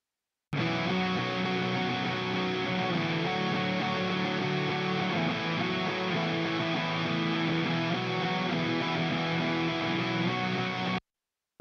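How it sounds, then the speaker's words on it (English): A lead electric guitar part from a reggae rock mix plays solo as a dense, sustained, effect-heavy tone. It holds at an even level for about ten seconds, then stops abruptly. "Okay, let's hear the lead guitar."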